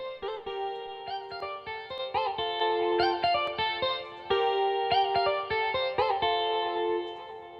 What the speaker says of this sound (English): With treatment, it sounds like this.